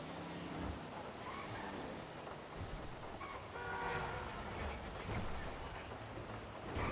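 A train rumbles in a video game, a low, distant, sustained roll with faint horn-like tones partway through, quiet and partly under someone talking.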